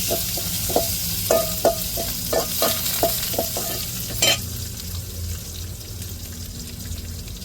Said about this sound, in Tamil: இதையும் நல்லா போட்டு வெங்காயத்தோடு நல்லா வதக்கி விட்டுருவோம்